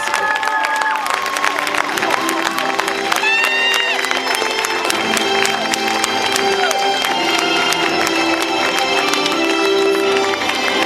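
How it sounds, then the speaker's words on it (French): Audience applause and cheering at the Miss Paris beauty pageant, a dense, steady wall of clapping lasting throughout, with a crowd murmuring beneath it. "je voudrais que vous applaudissiez encore une fois très très fort"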